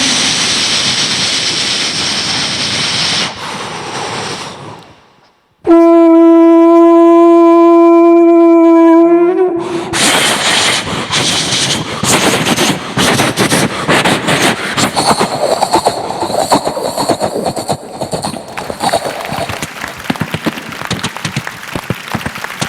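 A performer on a comedy stage show voice-imitates a passing train, starting with a rushing roar, then a sustained horn-like drone, then a long, loud rumbling rush that carries to the end.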